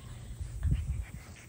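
Seven-week-old puppies at play let out a brief, soft whimper, one short close-up whine over a low, muffled background.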